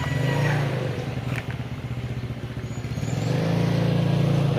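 Yamaha scooter being ridden by a learner, its small engine droning steadily close by, dipping slightly in the middle before rising again, with no talk.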